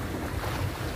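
Rough waves and sea wash on an island shore at night, mixed with strong wind buffeting the microphone, a dense, loud roar with no voices.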